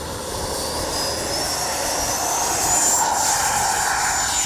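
A Freewing 90mm F-22 Raptor V2 RC model jet takes off with flaps set, its steady ducted-fan whine and broad roar holding loud and close throughout, with a slight rise in pitch near the end.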